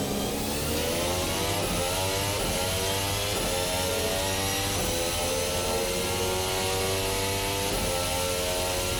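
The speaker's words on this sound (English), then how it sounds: "I am ever so slightly detecting a difference in the engine sounds here" RSS Formula Hybrid 2022 hybrid racing engine in Assetto Corsa at low speed while warming the tyres, a loud steady mechanical drone with layered harmonics and slight rising revs, continuous throughout with no talking.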